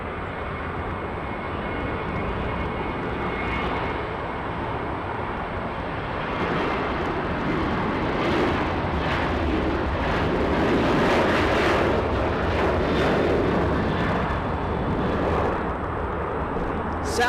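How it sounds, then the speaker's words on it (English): A Southwest airliner takes off at Los Angeles airport, its jet engines a loud, steady roar that builds and peaks toward the middle. Voices occasionally come through beneath the noise. "Southwest taking off."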